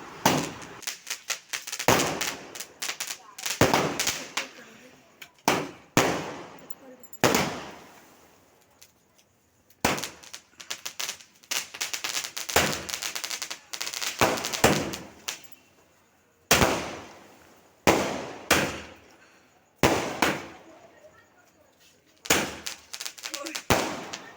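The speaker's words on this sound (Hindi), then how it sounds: "फिर उसके बाद मैं ये स्काई शॉट की पेटी जलनी स्टार्ट हो गई थी।" A box of sky shot fireworks set off outdoors at a celebration, sharp loud bursts firing one after another in irregular clusters, each crack trailing off before the next.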